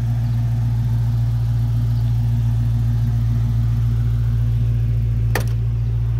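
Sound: supercharged Cobra R engine of 1965 Fastback Mustang driving

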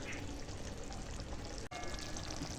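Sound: pouring cooked spicy fish curry out of the pan

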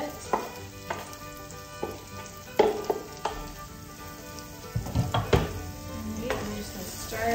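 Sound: minced garlic sizzling in olive oil, being stirred

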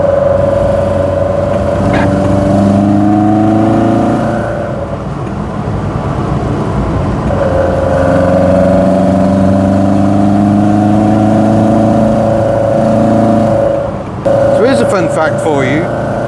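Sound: Fiat 131 Mirafiori engine induction roar, twin Dell'Orto carburettors

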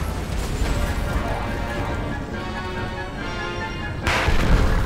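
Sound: gunfire shooting walls in video game Gears of War

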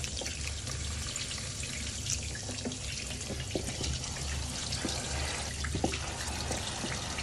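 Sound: water squeezed out of soaked ingredient while washing

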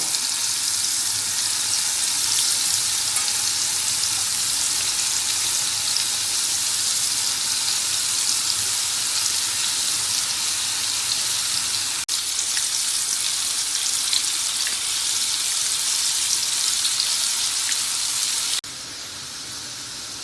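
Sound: bitter gourd frying in oil

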